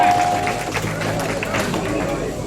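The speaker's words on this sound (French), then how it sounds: "Je vous demande de l'applaudir" Applause breaks out from an audience at an official launch event, a dense, steady wash of many hands clapping at moderate loudness, mixed with crowd murmur.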